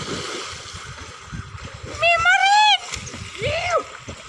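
A backflip dive into water during summer swimming lands with a splash amid shouting voices, followed by more calls.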